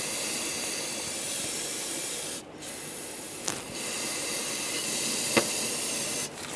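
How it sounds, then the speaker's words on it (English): Brake parts cleaner sprays from an aerosol can onto the engine of a 2010-2017 Chevrolet Equinox, a loud close continuous hiss broken by a few brief pauses between bursts. "If for some reason a lot of oil came out of there and you want to clean it up, spray some brake parts cleaner."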